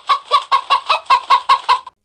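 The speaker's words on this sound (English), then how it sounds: "H for hen." A hen clucks close by in a quick, even series of about nine short clucks spaced roughly a fifth of a second apart.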